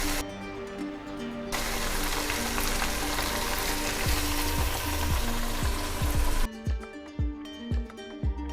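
Coconut and poppy seed paste frying in a pan for a chicken fry, a loud, steady sizzle that cuts off abruptly, leaving softer crackling with scattered stirring knocks.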